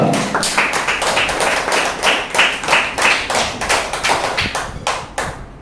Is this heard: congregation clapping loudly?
yes